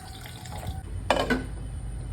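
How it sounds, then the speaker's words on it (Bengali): Water is poured into a pan of fried puti fish, a brief, soft splash and hiss rising partway through over a low background rumble, fairly faint and close. "এখন জলটা দিয়ে কিছুটা সেদ্ধ হোক"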